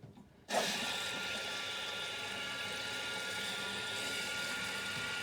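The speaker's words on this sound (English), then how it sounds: "So I'll turn my water back on. You see the bowl is filling up." After a brief quiet moment, water rushes in and a toilet bowl with a Fluidmaster kit refills with a steady, even hiss and gurgle that continues without letup.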